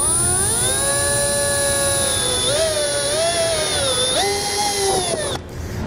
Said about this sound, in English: we're going to drill a hole in each corner of this. We're going to go all the way through the fascia